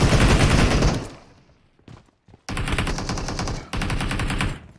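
Rapid automatic gunfire in the PUBG Mobile video game, loud continuous bursts that stop for a short gap, then resume in two sustained volleys.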